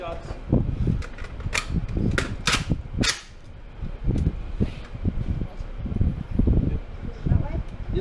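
Handgun fitted with a red dot sight fired at a gun store range, several sharp, loud shots at irregular intervals amid background noise, with people talking between shots.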